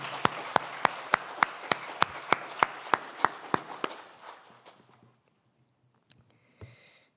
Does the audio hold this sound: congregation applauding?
yes